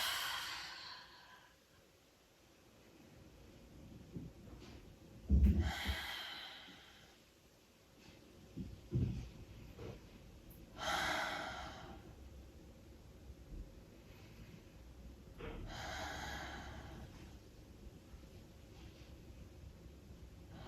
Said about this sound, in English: And deep breathing.